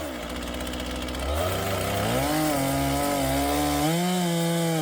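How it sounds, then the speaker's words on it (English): A Stihl 461 75cc chainsaw with a 32-inch bar cuts into firewood logs, the engine rising from a steady run to a loud, laboring whine that sags and recovers as the chain bites. "This is a 75cc chainsaw with a 32-inch bar."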